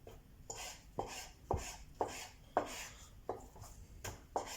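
Kitchen knife chopping a chicken fillet into small cubes on a cutting board, about eight distinct close thuds in an even rhythm with short pauses between, no talking.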